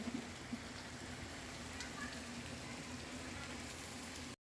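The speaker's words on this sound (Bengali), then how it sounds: "অনেক জোরে বৃষ্টি নামছে, আর এই বৃষ্টির শব্দটা অনেক ভালো লাগে আমার কাছে" Heavy rain pouring outside a home, a steady, even hiss that stays fairly quiet and constant throughout before cutting off abruptly at the very end.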